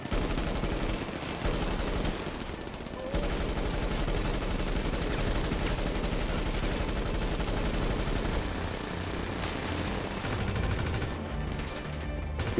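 Dense, sustained automatic gunfire in the survival game DayZ rattles almost without pause, with rapid bursts of loud shots layered over one another and brief dips between volleys.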